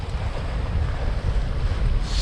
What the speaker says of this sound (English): turned the engine on